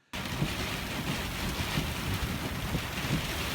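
Sudden onset of heavy rain and gusting wind in a storm with big waves, a dense continuous hiss with low buffeting rumbles, loud and unbroken for a few seconds.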